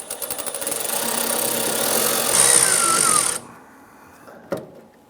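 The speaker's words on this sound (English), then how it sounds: "Using our 1/4-inch socket, we want to go ahead and loosen these clamps holding our fuel lines to the" A 1/4-inch socket driver whirs steadily for about three seconds while loosening a fuel line clamp at the tank of a 1995-2001 Ford Explorer, then cuts off, followed by a single metallic clank close by.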